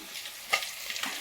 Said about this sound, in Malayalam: മീനതാ പകുതി വറുക്കണു.